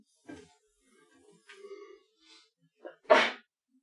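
A single sharp sneeze in a classroom during a math lecture, preceded by quiet breathy sounds, fairly close and abrupt against near silence.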